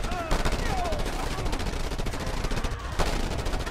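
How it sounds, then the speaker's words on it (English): A machine gun fires nonstop in the video game Just Cause 2, a dense, loud, rapid stream of shots lasting the whole moment with a few louder cracks. "That seems like a reasonable amount of bullets to put into someone."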